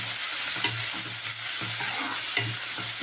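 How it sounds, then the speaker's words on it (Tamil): Green chilies stirred in a hot pan for a green gram kadaisal, with a steady close sizzle and repeated scraping strokes of the spoon, ending in a louder clatter. "பச்சை மிளகாய் ஒரு ரெண்டு காரம் வர மிளகாயும் கலக்கிட்டுருக்கேன்"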